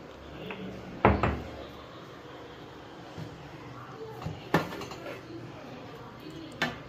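A lid lifted off a pot of mutton biryani after fifteen minutes of dum, with a loud metallic clank near the start, then a few softer knocks and clatters over a low room hum.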